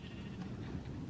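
Sheep bleating in Minecraft with the Better Than Wolves mod, a steady low murmuring bleat held close and alone for about a second.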